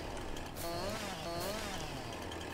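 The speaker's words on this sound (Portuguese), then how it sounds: "Vamos passar a motosserra aqui" A chainsaw cutting and trimming trees in the farming game Farming Simulator 2019 drones steadily and loudly throughout, its engine pitch rising and falling as it bites into the wood.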